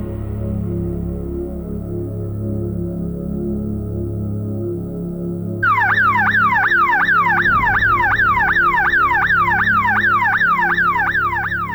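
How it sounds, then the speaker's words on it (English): A loud house burglar alarm bursts on partway through, wailing in rapid, repeated rising-and-falling sweeps over a steady low background hum. "It's a brave man that stays in a house with an alarm ringing."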